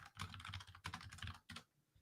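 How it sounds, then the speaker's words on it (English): Rapid keyboard typing in quick bursts of clattering keystrokes, fairly close and steady, with a brief pause before a final flurry and no voices. "Hammering away at the keyboard."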